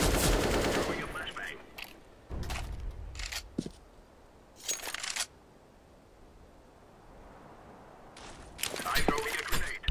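Gunfire in a Counter-Strike match at the PGL Major 2017, with several loud bursts of rifle fire separated by quieter stretches of game ambience.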